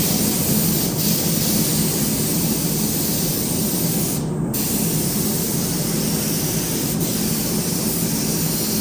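A primer spray gun with a 1.8 tip sprays 2K automotive primer in a hot shop, a loud steady hiss held continuously with one brief break midway.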